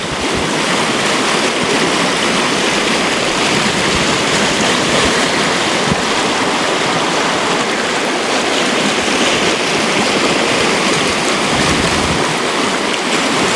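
Water rushes in a loud, constant broadband roar from Clear Creek, a year-round creek in California flowing close by, with no pauses or voices.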